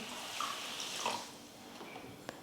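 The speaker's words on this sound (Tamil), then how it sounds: "1 கப் தண்ணி சேர்த்துக்கிறேன்." Water pours and splashes into a pan of sugar for Mysore pak, a soft close trickle lasting a couple of seconds before settling, with a faint drip at the end.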